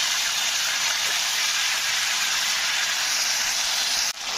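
Ground ginger, cumin and coriander paste hits hot oil for a vegetarian jackfruit curry, giving a loud, steady sizzling hiss that holds evenly and then briefly cuts out near the end.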